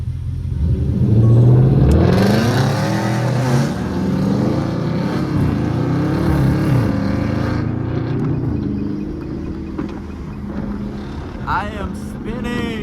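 Wheels of a Dodge Scat Pack spin on a rain-soaked road, a loud steady engine roar and tire whir rising and falling through the whole stretch, with wet spray noise.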